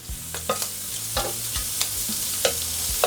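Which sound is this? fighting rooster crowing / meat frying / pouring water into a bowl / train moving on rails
meat frying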